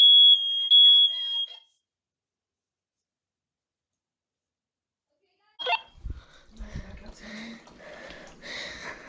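A smoke alarm gives a piercing high electronic beep for under two seconds during a home system test, then stops; after a few seconds of silence, people start talking nearby.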